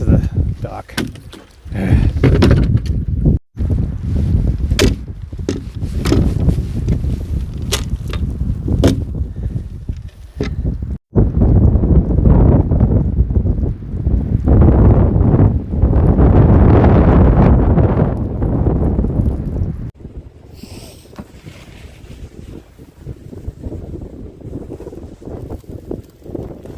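Strong wind blows hard across a lake dock on a cold 22-degree day, a loud, continuous rumbling roar that buffets the microphone, surging and easing before dropping to a lower level near the end.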